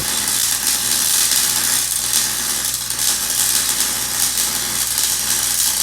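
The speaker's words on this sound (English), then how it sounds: "here's a short clip of me welding that axle into the box" Steady crackling hiss of welding an axle onto a steel smoker box made from a tank, continuous and close with no pauses, and no talking.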